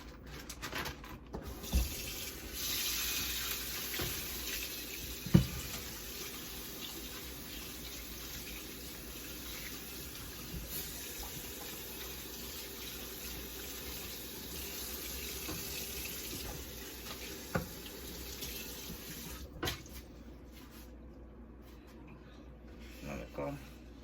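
A kitchen tap runs steadily into a sink while breakfast is prepared, a constant hiss of water with occasional clinks and knocks, and a person speaks now and then over it.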